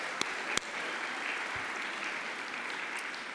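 Audience applause at a 2024 osteopathic honors gala, steady even clapping from a large crowd heard at moderate distance, with a couple of sharper claps standing out early on.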